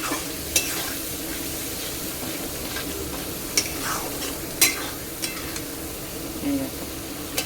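Ground-spice gravy for a chicken dish fries in a pan, a steady close sizzle punctuated by occasional sharp clinks and scrapes of a stirring spoon against the metal.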